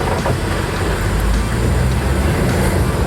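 A slow-rolling AM General Humvee easing down off an off-road obstacle on its brakes, a steady low rumble of engine and drivetrain with no talk over it.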